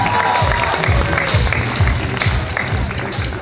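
Wedding reception guests applaud in a loud, continuous wash of clapping over a steady thumping music beat that pulses roughly twice a second.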